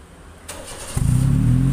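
A 2012 Honda City engine with an aftermarket muffler revs up sharply after a quiet idle. The exhaust then holds a loud, pulsing low drone close to the microphone.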